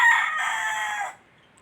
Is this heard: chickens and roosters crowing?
yes